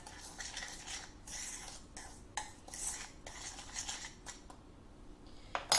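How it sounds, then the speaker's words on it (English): Sugars being stirred together in a bowl with a utensil while making scones and an apple crumble traybake: scraping and clinking strokes, close and fairly quiet, arriving in uneven bursts with brief pauses, with no voices. "stir your sugars in together"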